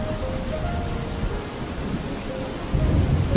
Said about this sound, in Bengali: দেখো বাইরে অনেক বৃষ্টি হচ্ছে তো